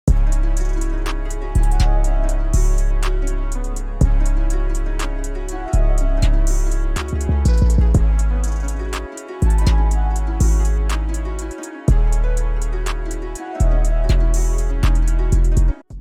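An FL Studio trap beat with a heavy distorted 808 bass and a kick hitting the first beat of odd measures loops steadily, pulsing loudly with sustained booming bass notes, brief dropouts, and bright hi-hat ticks throughout.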